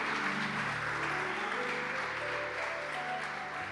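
Steady applause from a crowd fills the space, a dense, even patter of clapping that stays at a constant level throughout.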